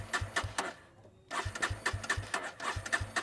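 A motorcycle with an under-belly exhaust, from a comparison of the 2025 Yamaha MT-15 and Baj台 Pulsar N160, fires up after a short pause and settles into a steady, throbbing idle with evenly spaced low pulses, close and fairly loud.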